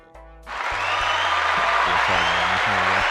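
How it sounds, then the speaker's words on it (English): A burst of recorded applause swells in and holds steady, dense clapping and crowd noise filling the space, with a few low tones underneath. "Hopefully that was the applause"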